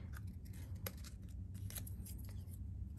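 Scissors cutting out a paper door piece for a craft project, with quiet, close snips and the soft rustle of paper repeating over a steady low background hum.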